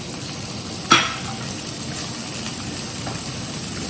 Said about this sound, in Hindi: सौते भूनना है थोड़ा